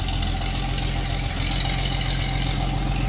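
A vehicle engine idles steadily at close range, a constant low rumble with a faint knocking texture and no voices.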